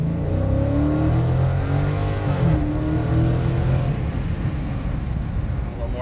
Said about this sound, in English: Let's go ahead and do a little rip up to 60 or so.